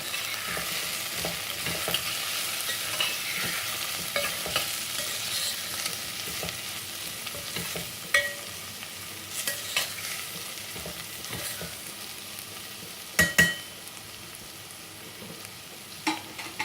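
Spices and cumin powder stirred through a frying pan of Sindhi seyal bhaji, a soft steady sizzle with scraping stirs and a few sharper clinks of the spoon against the pan.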